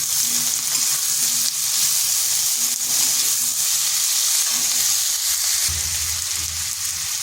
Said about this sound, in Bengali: এগুলোকে হালকা একটু ভেজে নিচ্ছি এরপর দিয়ে দিচ্ছি একটা মিডিয়াম সাইজের আলু